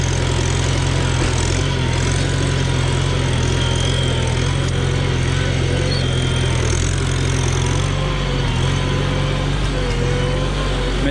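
A Farmall Super C tractor with a freshly rebuilt engine runs steadily outdoors on gravel, a loud, continuous low chugging drone with a constant pulse that holds unchanged throughout, near and alone with no voices.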